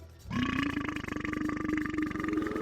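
A long, deep, rumbling burp lasting over two seconds, loud and close, with a gravelly, croaking texture throughout.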